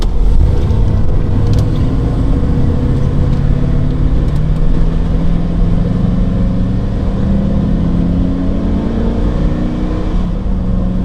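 A 2005 Roadtrek 210 Class B camper van rolls along in traffic, its engine a loud, steady interior drone and rumble rising gradually in pitch as it accelerates, with road noise throughout and no speech.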